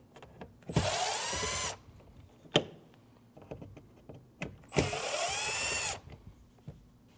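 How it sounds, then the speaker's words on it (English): A power driver backs two Phillips screws out of a Honda front door panel, giving two separate whirring bursts of about a second each, close and loud, with clicks and handling knocks between them. "You have two Phillips screws. You need to remove those."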